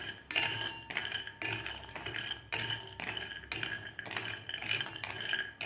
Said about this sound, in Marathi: मीडियम गॅसवर आपल्याला हे ड्रायफ्रूट भाजून घ्यायचे आहेत.